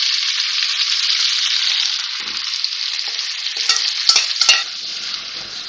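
Chicken pieces frying in a karahi for chicken korma make a bright, even sizzle, with louder crackling bursts as the meat settles into the hot oil; no voices.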